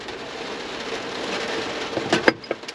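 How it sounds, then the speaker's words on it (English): Heavy rain pours steadily on and around a parked van, a dense continuous hiss with a few louder drops or knocks near the end. "I'm waiting for this rain to stop. You can probably hear it absolutely chucking it down out there."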